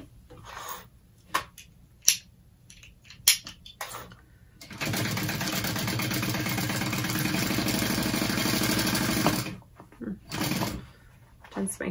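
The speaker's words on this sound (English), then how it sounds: "you're just sewing along that top edge" A sewing machine runs steadily for about five seconds, stitching along the top edge of a backpack, set between scattered clicks and handling noises before and after.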